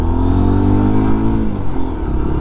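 A Lexmoto LXR 125 motorcycle on its original exhaust drones loudly and close, a steady single-cylinder note that holds then eases off as the revs drop near the end.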